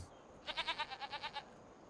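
Goats on a farm in the video game Farming Simulator 25 bleat in a quick run of about nine short, evenly spaced calls, clear and fairly close over a quiet background.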